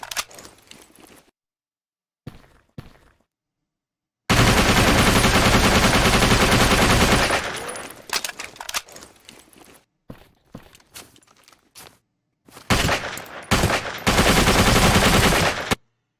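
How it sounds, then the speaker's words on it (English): Gunfire strikes snow in the game Dangerous Connections, with short scattered impacts, then long loud bursts of continuous automatic fire, separated by quiet gaps and clusters of sharp hits. "You can also hear the impact sounds, impact in snow."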